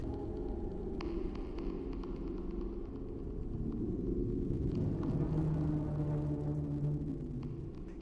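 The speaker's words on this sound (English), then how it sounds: "Coupled with this is the eerie sound the ice machine truly was making." An ice machine gives off a low, eerie moaning hum with a throbbing rumble, steady and droning throughout, with faint clicks and a slight swell in the middle.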